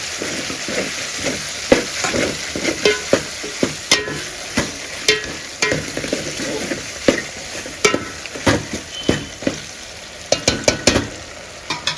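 Chicken kushka with small onions and tomatoes, a Rayalaseema village dish, stirred in a hot pan: steady sizzling frying with repeated sharp scrapes and clinks of a spoon against the pan, close and fairly loud, no talking.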